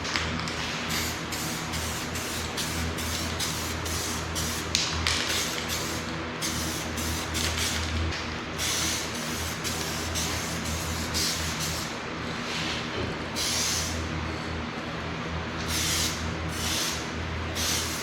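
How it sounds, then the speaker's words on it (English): A spray gun lays a quick primer coat on fairing extensions for a 2024 Harley-Davidson Road Glide, a steady hissing spray with short repeated bursts over a constant background hum. "We're going with a quick coat of primer, then we're gonna wait 10 or 15 minutes to put the second coat on."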